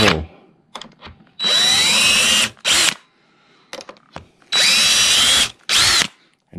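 A power drill whirs loudly in two bursts of about a second each, each followed by a shorter burst, with clicks and handling noises between, drilling a hole in a wooden door slab.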